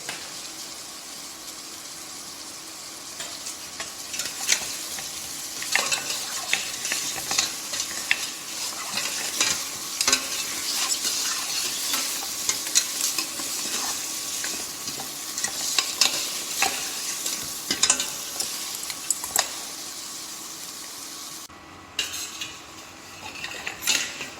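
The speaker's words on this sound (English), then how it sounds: "Now the meat is properly seared, sealed, and the flavoring and aromatic ingredients" Meat searing in a pot for a stew while being stirred with dry herbs: a continuous loud sizzle with frequent metallic scraping and clanks of a spoon against the pan, close and steady throughout.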